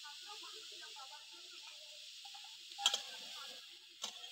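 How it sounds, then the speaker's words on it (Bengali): Drumstick flowers and potatoes frying in a pan give a soft, steady sizzling hiss with a couple of brief clicks, all fairly faint, with a low murmur underneath. "এবার ভালো করে নেড়ে চেড়ে ভেজে নিতে হবে।"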